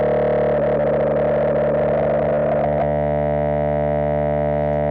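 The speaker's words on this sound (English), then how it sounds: "And you can see it's actually oscillating now." The self-oscillating filter of an Arturia MicroBrute synthesizer gives a harsh, buzzing electronic tone that warbles and fluctuates, then locks into a steady sustained drone with rich overtones.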